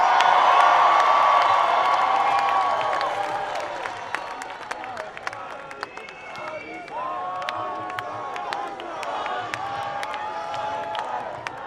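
A large crowd at a pro-Israel rally on the National Mall cheers and applauds loudly at first, then the roar fades into scattered whoops and claps.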